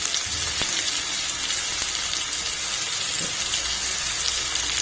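Eggs frying in a pan with turmeric and spices for egg curry, giving a dense, continuous hiss like rain. A few soft clicks and taps sound from the pan.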